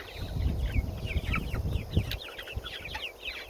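A flock of young straight-run chicks from a hatchery, mostly roosters with a few hens, chirps busily in high, overlapping peeps over a low rumble of handling and movement nearby.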